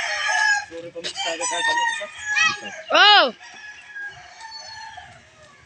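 Chickens cluck near a backyard in the Philippines while a rooster lets out one loud, clear crow midway, with people talking over the birds throughout.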